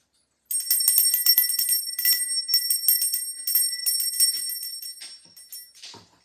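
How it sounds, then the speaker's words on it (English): A bright metal bell rung during a meditation session, with a sustained shimmering tone and rapid repeated strikes, ringing alone for several seconds before fading out. "So I'm going to ring the bell."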